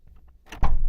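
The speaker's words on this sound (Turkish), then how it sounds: "kapıyı açıyorum." A Ford Connect's driver door being opened: faint rattles of the handle and latch, then a loud, close-up unlatching clunk as the door swings open.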